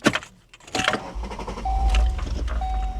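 A VW Eurovan with a VR6 engine, struggling with an ignition fault, turns over and catches, settling into a low, steady idle rumble with a faint whine, recorded close and without speech.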